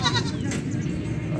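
Beetal goats bleating at the Faisalabad livestock market, a wavering close call rising over continuous crowd murmur and market bustle throughout.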